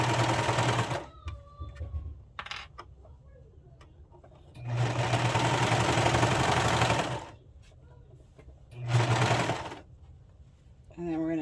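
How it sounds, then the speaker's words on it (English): A sewing machine stitches knit fabric in three loud bursts of a few seconds each, a steady rapid whir. Quieter handling sounds fill the pauses, and a brief voice comes in at the end. "let's go over to the sewing machine and sew this stuff up"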